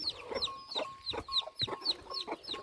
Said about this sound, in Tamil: இது ஒன்றை வச்சுட்டு கீச்சு முச்சுன்னு கத்துது.